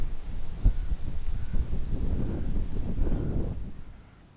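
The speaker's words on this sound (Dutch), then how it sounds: "de wind is enorm. Dus excuses voor de overlast." Strong wind roars across the microphone on a riverside walk through a nature area along the IJssel, a steady low rumble with a few gust thumps that eases off toward the end.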